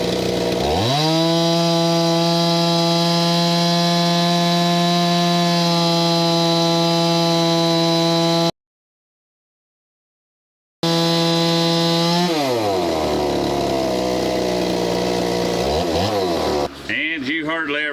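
A Stihl 026 chainsaw with a lowered, offset cylinder and modified piston screams at high, steady revs during a heat run on a dyno. It cuts out briefly, then runs again before winding down and revving unevenly.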